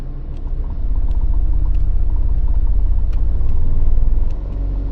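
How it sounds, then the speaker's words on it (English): A Mini with a rattling gearbox reversing in reverse gear, its steady close engine rumble and low mechanical drone rising slightly as it moves, with faint ticks over the top. "This is me reversing 4, 5, 6."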